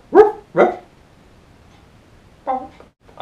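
Someone mimics Pluto the cartoon dog, giving two quick barks, a pause of silence, then two more barks, close and fairly loud.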